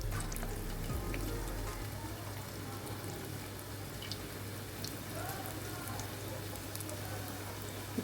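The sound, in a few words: onion pakodi frying in hot oil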